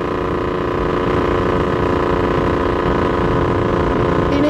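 A Yamaha F1ZR two-stroke motorcycle engine buzzes steadily at held mid revs while riding, a continuous loud drone with no talk over it.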